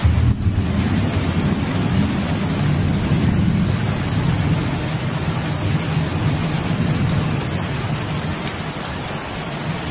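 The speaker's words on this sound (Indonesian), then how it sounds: "Nah, hujan." Heavy rain pours steadily with a deep rumble of thunder underneath, a dense, unbroken wash of noise with no voices.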